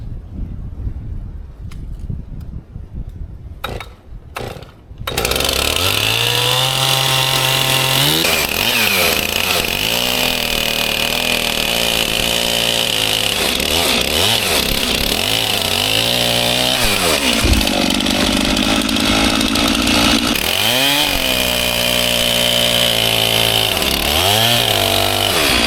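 After a few seconds of quiet with faint knocks, a chainsaw starts and runs loud and steady while cutting a log for sawmilling, its pitch dipping and rising as the bar bites into the wood.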